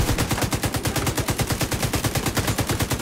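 Rapid automatic gunfire from a PC co-op shooter, The Division 2, a dense continuous burst of evenly spaced shots running loud and unbroken through the whole stretch with no talk over it.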